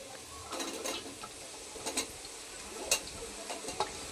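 Chopped capsicum is added to sizzling beans in a pan for vegetarian fried rice, with a soft frying hiss and intermittent scraping and clinking of a spatula stirring, quiet and close.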